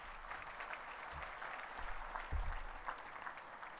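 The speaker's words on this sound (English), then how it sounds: "A good cheer for Sebastian." Applause from an audience at a hall of fame induction ceremony, a steady wash of clapping with a few louder swells, heard at a moderate distance and fairly faint throughout.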